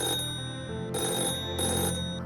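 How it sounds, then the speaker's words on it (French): A telephone rings at an Inter Milan training camp, its steady electronic bell tone carrying over a musical bed in two distinct bursts with a short pause between them. "Un téléphone sonne."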